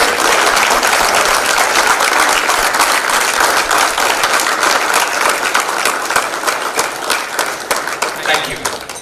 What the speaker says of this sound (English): say thank you by clapping for them